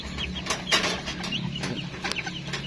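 Chabo bantam chickens held in a cage cluck in short, scattered bursts at close range over a low background hum.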